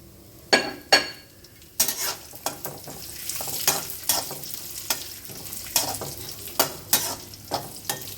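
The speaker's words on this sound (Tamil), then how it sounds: "இந்த ஸ்டேஜில் நம்ம வந்து திராட்சையை சேர்த்து அதையும் வறுத்துடலாம்." Cashews and raisins fry in a pan for carrot halwa, a low sizzle punctuated by repeated sharp spoon scrapes and clinks against the pan at an uneven rhythm.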